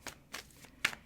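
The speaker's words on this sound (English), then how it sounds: "I'm just going to shuffle until we get a couple cards out" A tarot card deck being shuffled gives a few separate soft riffling bursts, quiet and close, with short pauses between them and no talking.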